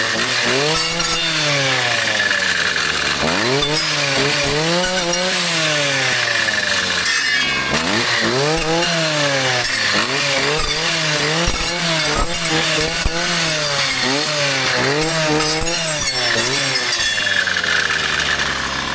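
A petrol brushcutter chews through dense growth on a farm, its engine loud and close, revving up and bogging down in repeated swells as the blade bites into thick vegetation.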